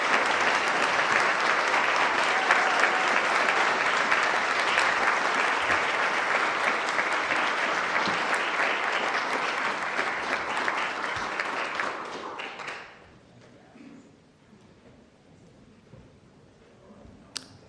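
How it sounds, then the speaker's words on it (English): Sustained audience applause at a school board meeting, dense and loud clapping for about twelve seconds before it fades out quickly to near silence with a few stray sounds. "give them a nice round of applause"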